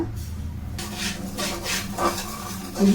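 Rice rava is being dry-roasted in a pan while a spoon stirs and scrapes it in repeated gritty strokes, close and moderately loud, ending with a brief metallic clink.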